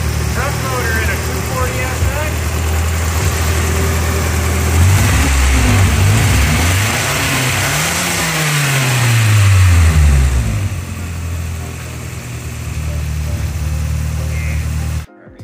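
A Nissan KA24E truck engine swapped into an S13 runs loud and close, idling with a rise in revs around the middle before settling back, then cutting off abruptly at the end; voices talk over it.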